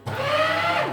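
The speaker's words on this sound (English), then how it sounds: "This is of course the document shredder" A small paper shredder motor whirs steadily up close for a moment, a buzzing mechanical drone with a faint grinding edge.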